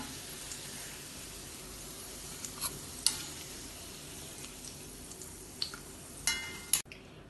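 Potatoes frying in oil, a steady low sizzle with a few sharp scraping and clinking touches from a utensil near the end, quiet and without voices.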